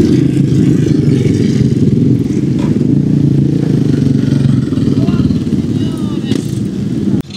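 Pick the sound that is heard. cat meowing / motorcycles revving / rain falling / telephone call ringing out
motorcycles revving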